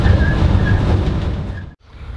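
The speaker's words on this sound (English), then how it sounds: "Ignoring people on a train is easy." A train rolls along the rails with a loud, steady low rumble and rattling, continuing until a brief sudden drop near the end, then resuming.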